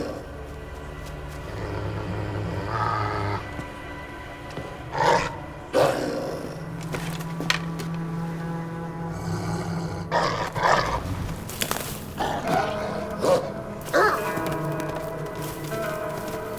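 Wolf pup growls and snarls in Assassin's Creed Valhalla, several rough bursts and snaps spread over a continuous low rumbling ambience, loud and close at times.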